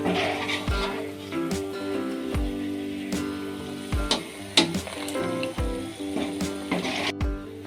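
Roasted gram goes into hot oil in which peanuts were just fried, giving a soft, continuous crackling sizzle punctuated by regular scraping and clinking strokes of a utensil against the pan.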